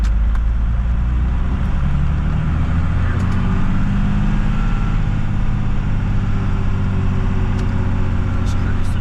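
A large truck rolls past on the road outside, a steady low rumble that holds for the whole stretch and masks other sound, with a few faint clicks on top.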